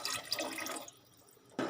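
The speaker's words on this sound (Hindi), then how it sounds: "और जो जग में पानी था इसका, वो भी इसमें शामिल करेंगे" Water poured from a jug into a pot of Punjabi-style mutton korma, a short splashing pour that fades out, then a brief burst of splashing returns at the very end.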